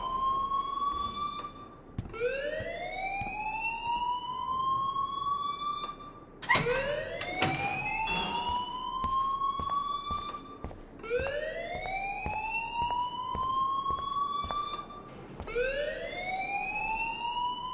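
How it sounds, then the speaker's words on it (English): A fire alarm sounds inside the video game Life Is Strange, loud repeated rising electronic whoops about every two to three seconds, with a brief harsher burst in the middle. "please turn off that alarm since that's your job"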